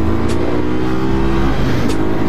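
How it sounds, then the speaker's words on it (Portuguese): Honda CG motorcycle engine accelerating gently on a city street, a steady loud engine drone with rising harmonics throughout, no talk. "Acho que entrar nesse motor da CG agora na aceleradinha de leve"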